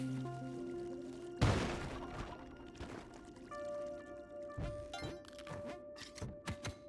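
A bomb set down and exploding in a video game: a sudden heavy thump and burst of noise that decays over a second, followed by scattered knocks and clicks over steady game tones.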